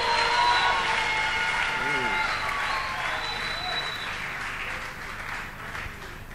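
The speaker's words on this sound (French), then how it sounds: "on peut acclamer très fort le Seigneur de gloire" Church congregation at a worship service applauding loudly for the Lord, dense sustained clapping with some cheering and voices mixed in, gradually easing off.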